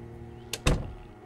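A house's back door opens in the zombie survival game Project Zomboid, a short creak followed by a heavy thunk, close and alone in the scene.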